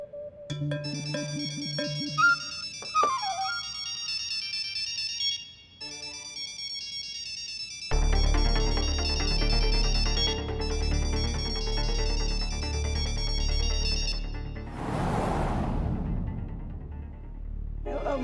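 A mobile phone ringtone plays loudly on its own as a melodic electronic tune, shifting into a fuller, denser passage partway through, with no talk over it.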